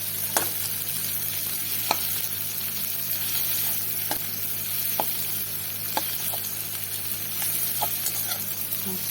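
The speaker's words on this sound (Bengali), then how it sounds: "চিংড়ি মাছ পেঁয়াজ সব ভাজা ভাজা হয়ে গেছে" Prawns and onion fry in a pan with a continuous soft sizzle, punctuated by sharp, irregular clicks and scrapes of stirring, close and moderately quiet with no talking.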